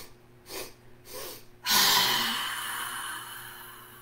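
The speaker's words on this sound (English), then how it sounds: "it's three quick sniffs, then out, and you're pushing" A breathing exercise for lung health: three quick, sharp sniffs through the nose, then one long forceful exhale that trails off, heard close and alone.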